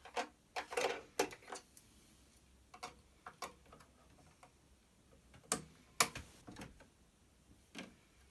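Butterick EB6100 sewing machine bringing up the bobbin thread by hand, giving quiet, sparse mechanical ticks and clicks at irregular intervals, close by, against a near-silent background.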